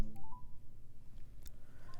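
A call being placed on a Samsung Galaxy S24 Ultra gives a short dialing tone over a low hum, with a few faint clicks from tapping the screen.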